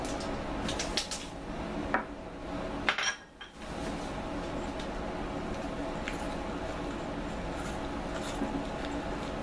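Dandelion cookie batter is stirred in a bowl with a spoon, giving soft repeated scraping and clinking that is close and fairly quiet, with a brief louder knock partway through.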